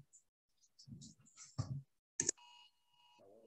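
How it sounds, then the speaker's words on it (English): Phone emergency alert for a tornado warning sounds as a sharp electronic tone burst followed by a sustained steady beeping tone, after some brief speech-like sounds and clicks, fairly close and clear. "my phone is saying there's a tornado warning"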